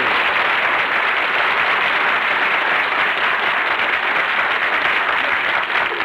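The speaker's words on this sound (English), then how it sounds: "Everybody on the street is applauding." A crowd of people out on the street breaks into steady, dense applause, a continuous wash of many hands clapping at once that stays even and loud throughout, with no voices over it.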